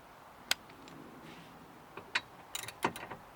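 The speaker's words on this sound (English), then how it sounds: "you need to remove the guide pins using an H7 hex 7mm." A hex socket wrench loosens the caliper guide pins on an early-2000s MINI Cooper S, giving faint scattered ratcheting clicks and metallic ticks, sparse at first and then a quicker cluster near the end.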